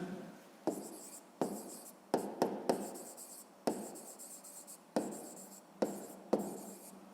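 A pen scratches across paper as a math solution is written out, close and clear, in short separate strokes and bursts of about a second each, with brief pauses between them and no voices.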